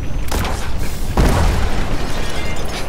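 Enemy gunfire in In Sound Mind, two loud booming shots about a second apart with a heavy low-end thump, under a dense rumbling background.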